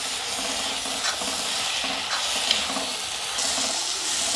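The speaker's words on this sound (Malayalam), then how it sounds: "എന്നിട്ട് നല്ലവണ്ണം ഒന്ന് വഴറ്റിയെടുക്കാം." Spices with turmeric and garam masala sautéing for prawn biryani give a steady, soft sizzle with faint stirring scrapes, close and continuous, with no voices.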